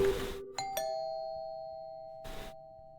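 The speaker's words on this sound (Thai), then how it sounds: "อเสียงคนกดกิ่งนี่คือ" Doorbell in the Fear to Fathom: Home Alone video game rings as a two-note ding-dong chime. The ringing tone decays slowly in a quiet room, with brief noisy bursts before and after.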